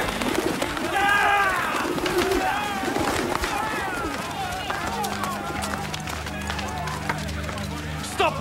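Pigeons call and coo in a bustling temple marketplace, their chirps and flutters rising over a steady murmur of crowd voices and scuffling movement, with a low droning tone entering partway through.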